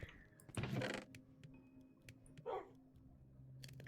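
Dogs in the Minecraft video game give a few short, sharp barks and yips, near and loud, spaced out over a few seconds with quiet gaps between them.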